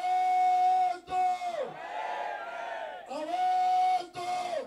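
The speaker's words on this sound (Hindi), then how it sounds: "आप स्लोगन चिल्ला सकते हैं" A street crowd of protesters blocking a road shouts slogans in unison, loud sustained chanting in repeated call phrases with brief breaks between rounds.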